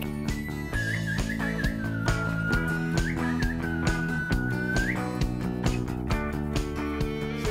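A person whistles a short wavering tune, clear and close above steady background music.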